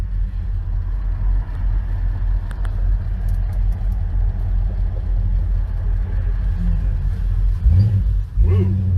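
A 1966 Dodge Coronet, a big car with a modest engine, rumbles and accelerates in rush-hour traffic, its low steady engine drone close and continuous with a brief rise in revs near the end.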